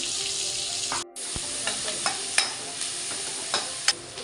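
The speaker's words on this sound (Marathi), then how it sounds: "तेल एक दीड पळी इतकं तेल मी घेतलेलं आहे त्याच्यामध्ये हे चिरून घेतलेला कांदा जो आहे तो मी घालत आहे" Chopped onion fries in about one and a half ladles of oil, a bright steady sizzle that briefly cuts out, then returns with a string of light stirring clicks and taps close by, with no talking.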